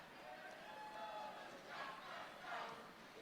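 A crowd at a roller derby bout between the Minnesota RollerGirls and Terminal City All-Stars chants a cheer that rises in two quick swells, heard faint and distant in a large hall.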